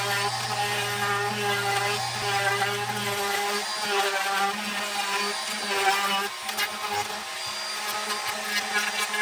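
A router rounds over the edges of wooden slats for a simple shelving unit, a steady high whining drone that runs continuously and close, with no talk.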